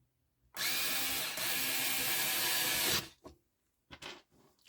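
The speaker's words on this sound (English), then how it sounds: "I'm liking my screwdriver." A screwdriver turns the ground screw on a Sansui P-D20 turntable during an overhaul. It gives a close, loud, steady mechanical whir for about two and a half seconds, then stops, followed by a few short scraping clicks.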